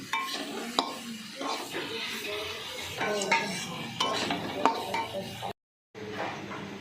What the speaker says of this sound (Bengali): গ্রেড করে রাখা পেঁপেটা আমি দিয়ে দিচ্ছি দিয়ে এই মশলার সঙ্গে ভালো করে মিশিয়ে নিচ্ছি